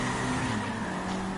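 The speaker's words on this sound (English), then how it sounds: "Sexy, the noises on the car though" Race car engine from NFS Unbound, a brief steady roar with a sustained droning tone, loud and close with no talk over it.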